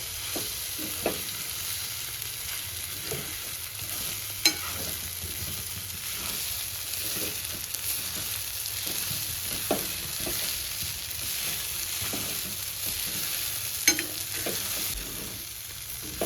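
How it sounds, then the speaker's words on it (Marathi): Soaked poha being stirred in a pan over a low steady sizzle, with scattered spoon scrapes and taps against the pan, close and without talking. "पोहे आता चांगले मिक्स करून घ्यायचे आपल्या मटेरियलमध्ये"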